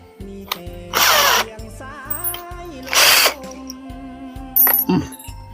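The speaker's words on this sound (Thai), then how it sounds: "เราก็เอาสว่านเล็กๆ แบบนี้นะ" A small electric drill with a small bit whirs in three short, loud bursts, separated by quieter mechanical hum and a faint background tone.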